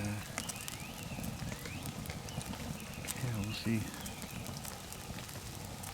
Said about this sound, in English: But I am attempting to get a fire going. It's going a little bit.